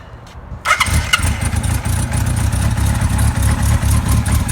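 A 1976 Kawasaki KZ900 motorcycle engine fires up for the first time after a brief quiet lead-in, catching abruptly and settling into a loud, steady, throbbing idle close by.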